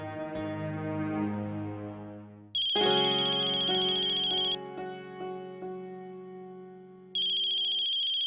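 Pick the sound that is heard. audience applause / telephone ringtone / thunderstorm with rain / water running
telephone ringtone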